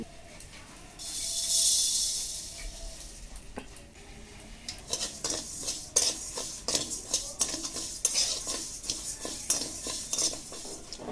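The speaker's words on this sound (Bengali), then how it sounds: "আমি চাল ভেজে লাড্ডু বানিয়ে নেব চাল ভেজে নিচ্ছি" Rice dry-roasts in a pan, starting with a brief hiss, then a fast, steady run of rattling scrapes and clinks as a utensil stirs the grains close up, with no talking.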